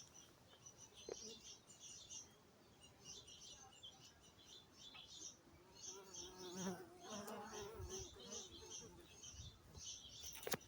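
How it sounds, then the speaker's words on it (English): Bees buzz steadily close by among catnip plants in a garden, with birds chirping faintly in the background. "Listen to all these bees."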